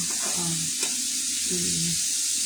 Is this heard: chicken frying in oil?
yes